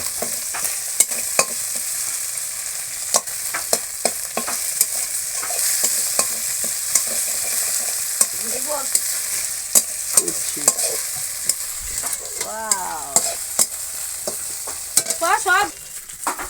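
Pabda fish curry stirs and fries in a pan, a spoon scraping repeatedly through a steady, close sizzle that runs the whole time.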